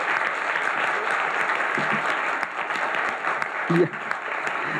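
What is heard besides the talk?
audience applause for the interpreters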